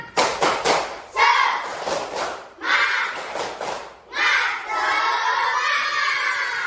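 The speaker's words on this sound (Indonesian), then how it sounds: "Ayo berdiri dulu semuanya, kita tepuk semangat." Primary school pupils in a classroom, standing, perform a rhythmic clapping chant, with bursts of patterned claps and thuds alternating with loud group chanting of children's voices.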